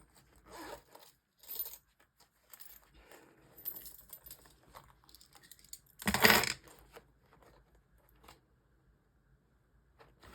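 Scattered clinks and rattles of small copper coins being picked up and shuffled, one louder jingling burst in the middle, with quiet pauses between.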